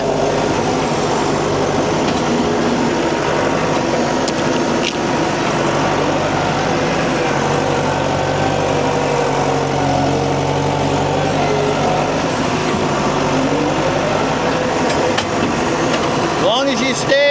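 A tractor engine runs steadily at close range while a corn silage mound is built and packed, its low rumble continuous and loud throughout, with a brief clatter near the end.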